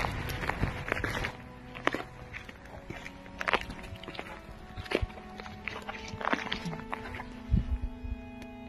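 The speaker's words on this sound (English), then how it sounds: "I thought I heard a footstep." Footsteps inside an apartment come as scattered irregular thumps and creaks, moderately close, with quiet background between them and no clear talk.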